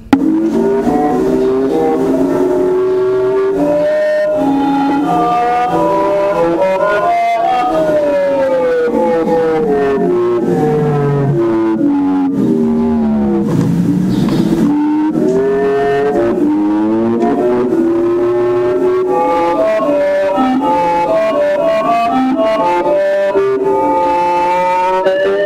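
An early computer-sung song plays back steadily, a synthetic voice gliding through sustained pitched tones with smooth bends for about 25 seconds.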